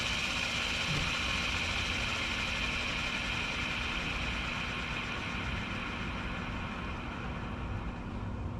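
The rear spool of an Arrma Infraction V2 RC car spins on the vehicle with the top plate held loose, giving a steady close whirring hum that holds even throughout.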